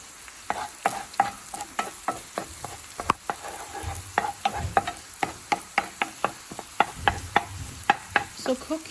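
Egg being scrambled in a hot pan while it fries, with a steady rhythm of sharp spatula taps and scrapes over a constant sizzle, close and fairly loud, no voices.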